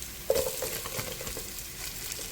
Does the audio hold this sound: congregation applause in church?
no